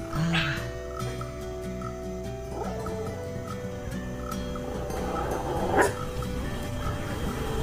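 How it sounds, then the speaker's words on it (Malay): A dog barks loudly amid a noisy, cluttered background with steady tones and other animal-like calls, one sharp burst standing out near the end. "Begitu kuat bunyi anjing."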